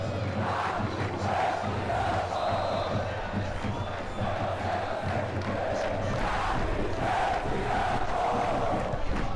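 Stadium crowd in the video game FIFA 23 during a CRB versus Londrina Brazilian Série B match, a continuous roaring chant with rising cheers in waves, steady and full throughout.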